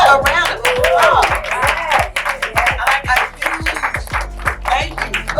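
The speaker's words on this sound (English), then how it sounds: "can we give them all a round of applause?" Audience applause at a women's fitness collective gathering, a dense burst of many hands clapping close by, strong at first and then thinning into scattered claps before swelling again.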